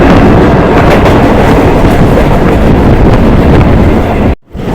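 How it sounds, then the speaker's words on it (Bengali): Loud, steady rumble from inside a moving train as it pulls into Kadambagachhi station, mixed with heavy wind buffeting on the microphone that cuts out briefly near the end. "কাজীপাড়ার থেকে তিন কিলোমিটার এসে আমাদের ট্রেনটা ঢুকলো"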